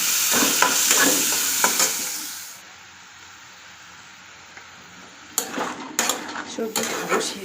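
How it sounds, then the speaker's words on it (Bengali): Soybean chunks frying in a pan on a home stove, with metal stirring scrapes and clinks and a steady sizzle, a quieter pause in the middle, then louder bursts of clatter and frying near the end. "সোয়াবিন ভাজা করে নিচ্ছি"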